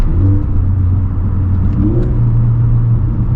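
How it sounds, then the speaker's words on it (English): A Subaru car engine revs on a downshift after a rear motor mount install, a steady loud mid-range drone with a brief rise and fall in pitch, heard close from inside the car with no talking. "let's downshift a little bit."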